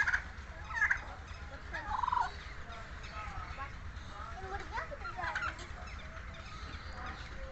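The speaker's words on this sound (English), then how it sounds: "here come the turkey couple, and they are the dons" A pair of turkeys gobbles in a yard shared with geese, guinea fowl and puppies. Bursts of gobbling and clucking come near the start and around two seconds, then softer fowl calls continue over a steady outdoor background.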